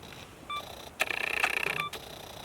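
A camera's self-timer counting down on a ten-second timer during night astrophotography, giving short bright electronic beeps that speed into a rapid run of pulses before the shutter, alone and close in a quiet setting.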